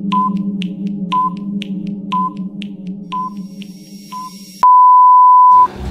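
Short electronic beeps from a puzzle countdown timer sound about once per second over a steady hum, then one long continuous tone marks the end.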